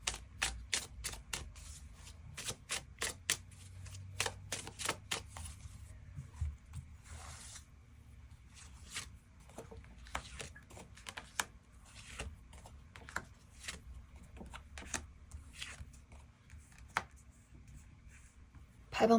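Tarot cards are shuffled and drawn in a series of quick, crisp riffling and snapping bursts, close and fairly quiet, with short pauses between them.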